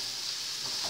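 Chopped green peppers and onions fry in a pan, giving a constant bright sizzle with soft stirring movements close by.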